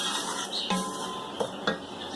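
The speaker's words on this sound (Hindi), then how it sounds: "10 मिनट हो चुके हैं इसे हमें भूनते हुए, 5 मिनट और भून लेते हैं" Dry semolina (sooji) is stirred as it roasts in a pot, the spoon scraping and rasping against the metal in a steady rhythm, with a few sharper clinks.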